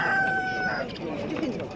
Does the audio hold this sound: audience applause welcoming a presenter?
no